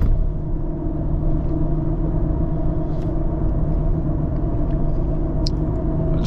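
Ram 1500 pickup on a 9-inch lift with big tires cruising in traffic, heard from the cab as a constant heavy rumble of engine and tire noise, even and unbroken, with a few faint clicks.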